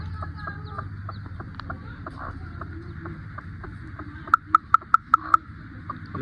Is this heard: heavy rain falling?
no